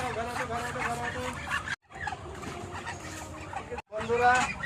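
Chickens cluck and squawk on a duck and chicken farm in a busy, overlapping chorus at moderate distance, with two short breaks in the sound.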